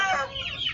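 Chickens in a small rooftop coop cluck and call in a quick, close burst of overlapping hen and rooster sounds, loud and alone with no talk.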